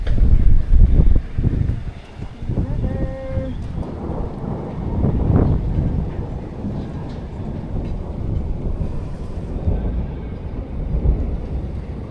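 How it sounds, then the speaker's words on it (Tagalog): Loud, steady roaring wind buffets the microphone with heavy low rumble, rising and falling in gusts throughout, with a few faint clatters mixed in. "Grabe yung hangin."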